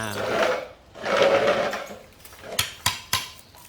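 A power drill bores holes in T-pieces for making brooms from plastic bottles, its motor whining in two longer bursts, followed by a few sharp knocks of the workpiece being handled, close by.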